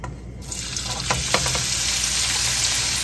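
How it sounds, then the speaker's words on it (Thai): Beef sizzles steadily as it is stir-fried in a pan over a gas flame, a continuous loud hiss with scattered crackles and the occasional scrape of stirring, no voices. "ก็ติดแก๊สเลยนะคะ เอาเนื้อเข้าไปลวนก่อนเลยนะคะ"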